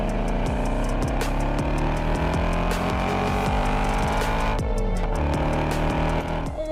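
Ford Mustang sports car being driven hard, engine revving up through gears with sharp shifts and rising whine, loud and close throughout.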